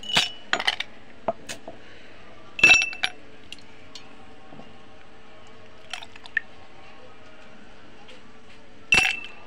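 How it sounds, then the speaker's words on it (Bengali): Ice cubes drop into a glass for a homemade lychee lassi, giving several sharp clinks and clatters: a quick cluster at the start, another strike near three seconds and a last one near the end, with a few softer taps between. "দেখুন কিছু আইস দিয়ে দিচ্ছি।"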